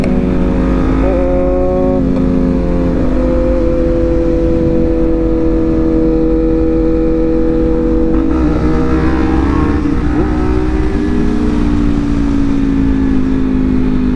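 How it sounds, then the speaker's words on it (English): Yamaha R6 motorcycle fitted with a new loud exhaust, a close, continuous heavy engine roar holding steady with shifting pitch and a few rises in revs. "This bike is so loud now."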